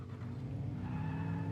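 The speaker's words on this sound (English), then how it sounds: "Another car driving by." A vehicle in Fortnite drives past with a low engine hum and a tire-skid hiss, steady and fairly faint throughout the short moment.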